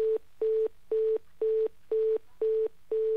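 Telephone busy tone after a call is cut off: a steady, evenly pulsed beep repeating seven times at a regular rhythm, clear and close with no voices.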